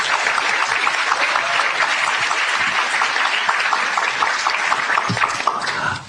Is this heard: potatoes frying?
no